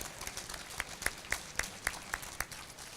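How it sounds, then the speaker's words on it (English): Audience applause for the Consul General at a Filipino American History Month celebration: sparse, scattered claps with a few sharper hits standing out, fairly thin and brief rather than a full roar. "Let's have one round of applause for Consul General Colonhe."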